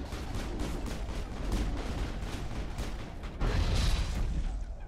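A grenade detonates in Mass Effect amid ongoing combat, giving a dense, sustained rumble of blasts and gunfire with a louder swell near the end, with no speech.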